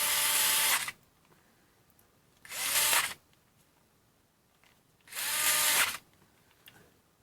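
A SKIL Twist 2.0 rechargeable 4V electric screwdriver whirs in three separate bursts of about a second each, a close, steady high-pitched motor whine with quiet gaps between runs.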